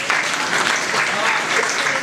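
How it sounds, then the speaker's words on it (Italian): A brief burst of audience clapping, steady and fairly close, filling the whole short stretch without a break. "Alla console in regia un applauso, Rachele."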